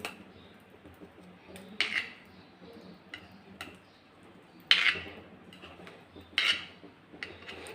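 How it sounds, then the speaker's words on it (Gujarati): Knife slicing through hot, freshly steamed farali dhokla, giving sparse soft taps and light clicks of the blade against the tray, a few sharper strikes at scattered moments, close and quiet with no talk. "ગરમ ગરમ ઢોકળાનું આપણે સૌથી પહેલાં તો કટિંગ કરી લઈશું"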